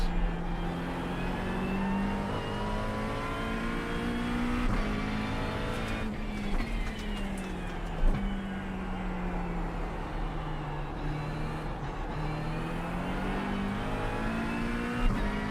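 A race car engine in the iRacing sim game hums steadily with gear-change pitch shifts and brief revs, running on cold tires, loud and continuous with no talk over it.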